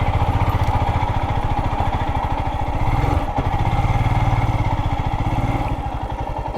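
A Royal Enfield Himalayan 411 single-cylinder engine thumps steadily in second gear while riding off-road through snow, a loud, close, even pulsing beat that barely changes over the whole stretch.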